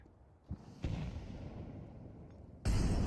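A grenade explosion in a video game: a couple of sharp thuds and then a loud, heavy blast near the end, with rumbling noise between them and no talk.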